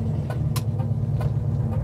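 1966 Volvo Amazon P120 car engine while driving, a low steady rumbling drone heard from inside the cabin with a few faint knocks and rattles over it.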